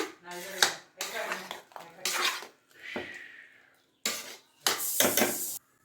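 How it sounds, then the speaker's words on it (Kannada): A metal pan is set down on a stove to make tempering for bisibele bath, giving sharp clanks and scraping kitchen clatter in short bursts separated by brief pauses. "ಬಾಣಲೆ ಇಟ್ಟಿದ್ದೀನಿ ಒಗ್ಗರಣೆಗೆ. ಎಣ್ಣೆ ಹಾಕ್ಬಿಡೋಣ."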